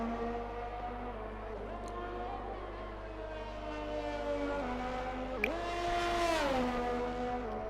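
Race car engine in a sim racing game during a Saudi Arabia league race, a steady tonal whine that climbs and falls through gear changes with a brief sharp click, heard alone over a low hum.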